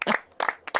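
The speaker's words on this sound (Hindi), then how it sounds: "जो लोग पहले हंसते थे वही अब ताली बजाते।" Three quick bursts of hand clapping from a small group of villagers, sharp and close, each burst separated by a brief pause.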